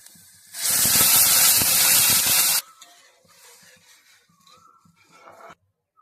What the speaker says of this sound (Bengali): এবার স্যুপটা আমি দিয়ে দেবো এতে